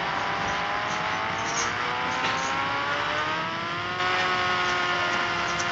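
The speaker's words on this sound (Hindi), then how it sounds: "तो घोस्ट राइडर बाइक को उड़ाया।" The Ghost Rider bike in the Indian Bike Driving 3D video game, on a mega ramp challenge, gives off a continuous, loud engine whine whose pitch climbs slowly and then holds steady. No one speaks over it.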